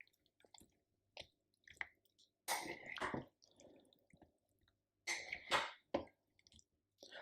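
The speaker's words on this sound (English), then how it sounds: "I'm going to just push the bones down a little bit so they're in the gravy." A spoon pushes chicken bones down into gravy in a one-pot slow cooker chicken casserole with potatoes, giving close, quiet wet squishes and drips in irregular bursts with silent gaps between.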